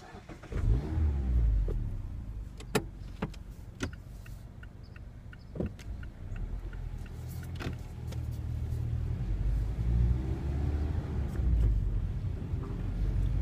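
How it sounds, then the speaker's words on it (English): A 2016 Mazda MX-5 Miata engine revs and pulls through the gears, the exhaust rising and falling in a throaty note heard from inside the cabin, with small clicks and rattles. "I hope you can hear the exhaust note"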